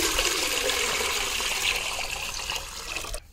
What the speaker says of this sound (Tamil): அருணே, என்ன பண்ணி தண்ணி ஊத்தப்பா.